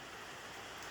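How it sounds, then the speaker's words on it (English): Steady rain falls outside a workshop where a Ford Escort Mk2 is being restored, producing a continuous, fairly loud hiss of drops on the roof and surfaces with no talk over it. "I apologise for the noise, it's raining"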